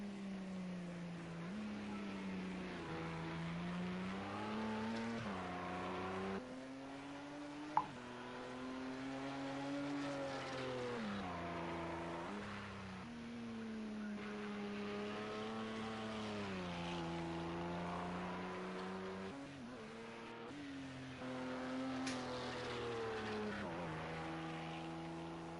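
Racing cars in a simulated 24 Hours of Le Mans endurance event drone steadily throughout, engine pitch rising and falling with gear changes and corners, loud and continuous with no talk.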